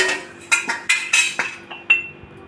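Ghee-fried cashews go into a rava laddu mixture of semolina, sugar and coconut, giving about six sharp, close metallic clinks and taps at an uneven rhythm, with no talking.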